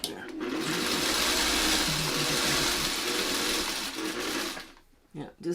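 A hand-crank sewing machine stitches a Y seam for a Castle Wall quilt block, whirring in a steady, continuous run for about four seconds before stopping, with a brief voice near the end.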